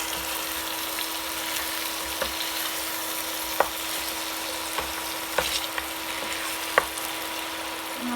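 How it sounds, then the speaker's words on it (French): Goat meat browns in a hot frying pan, giving a steady close sizzle and crackle with a few sharp pops and light stirring scrapes, no voices. "dorer la viande"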